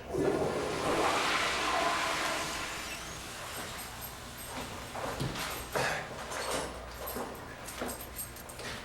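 A toilet flush rushes loudly for a couple of seconds during a live comedy festival performance, then fades into a lower wash of scattered room noise.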